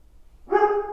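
A single dog bark or yelp rings out close and fairly loud in the second half of the moment, following near silence, with no talking over it.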